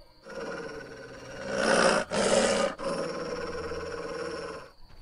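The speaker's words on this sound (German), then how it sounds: "Dieser Hund scheint nach etwas zu suchen." A dog growls in The Witcher: Enhanced Edition, a deep, sustained snarl that swells loud mid-way, breaks off briefly, then continues rumbling steadily with no talk over it.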